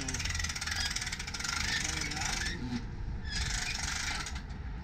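A manual RV awning is pulled out, giving a steady mechanical whirring and ratcheting as it unrolls. There is a brief lull partway through before the rolling resumes, close by and fairly loud.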